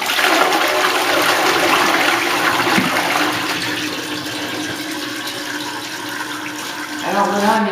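A newly installed toilet flushing in a test run, a loud close rush of water that gradually settles into a softer refilling hiss, with a brief voice near the end.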